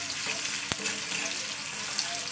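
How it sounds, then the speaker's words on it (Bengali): A whole onion and a few garlic cloves fry in oil with a continuous, close sizzle and light stirring, broken by one sharp tap of a utensil early on. "এবার এটাকে ভালো করে ভাজা করে নিতে হবে।"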